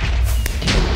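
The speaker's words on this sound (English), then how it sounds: "There we go, I just used like 100 fireworks." Fireworks bursting in the Minecraft video game, a single loud booming blast with a sharp crack, close and full, followed by a brief rumbling tail.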